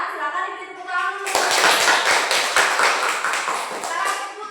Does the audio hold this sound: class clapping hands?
yes